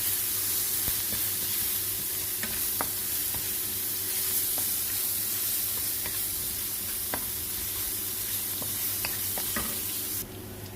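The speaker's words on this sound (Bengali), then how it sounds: "এখন পাঁচফোড়ন দিয়ে দিচ্ছি আদা আর কয়েকটা কাঁচামরিচ" Panch phoron, ginger and a few green chilies sizzling in hot oil for a vegetarian village-style dish, a loud continuous hiss with occasional spoon clicks as it is stirred.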